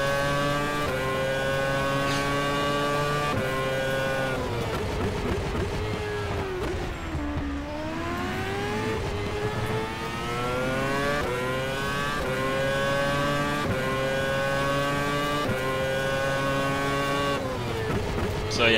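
Stock car racing engine in a Brazilian Stock Car sim game, a steady loud high-revving drone with harmonics rising through upshifts and dipping mid-clip on a lift, continuous throughout with faint speech-like traces.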